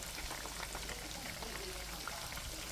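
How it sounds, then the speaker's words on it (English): A dense, steady crackle and sizzle of food frying in hot oil, constant and close without pauses. "get all the chicken in here and get everything heated up and frying"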